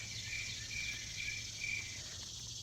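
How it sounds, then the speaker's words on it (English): Cicadas buzz outdoors in a steady, faint high-pitched drone, with a few pulsing rises in their song, heard from some distance over a low background hum. "Cicadas! They're back!"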